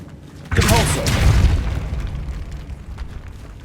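Depulso, a force-push spell in the Hogwarts Legacy video game, lands with a heavy booming impact that swells into a rumbling burst and slowly decays, loud and close.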